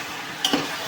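Country chicken curry with onion paste is stirred in a pan, giving a brief scrape or two of a spoon over a soft, continuous sizzle, heard close.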